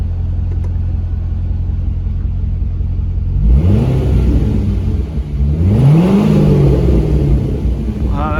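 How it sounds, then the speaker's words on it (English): A 2009 Corvette C6 coupe with Corsa exhaust and six-speed manual idles with a steady low rumble, then revs up loudly twice, the pitch sweeping up and falling back each time, close by. "give the engine a rev"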